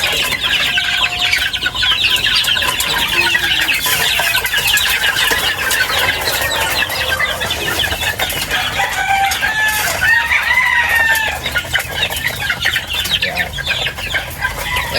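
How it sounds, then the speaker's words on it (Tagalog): Chicks and chickens cluck and cheep steadily on a breeding farm while a rooster crows partway through, a busy, continuous flock sound with no talking. "Ayan mga sisiw natin."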